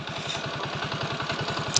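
A TVS XL 100 moped engine idles at slightly raised revs, a rapid, even putter that is close and steady throughout.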